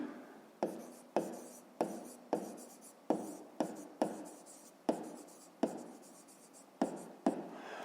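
Pen strokes writing out a fifth-grade math solution on paper, heard as a close, quiet series of about fifteen short scratchy bursts, each starting sharply and trailing off, with brief pauses between.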